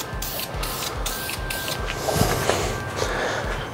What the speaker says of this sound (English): Just using a little clear lacquer.